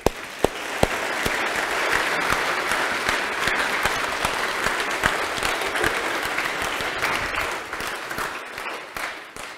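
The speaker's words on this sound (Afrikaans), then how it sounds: "Kom ons gee hulle lekker aan 'n klap." A church congregation gives a sustained round of applause for the 2025 confirmation class, steady dense clapping that holds for several seconds before slowly thinning out.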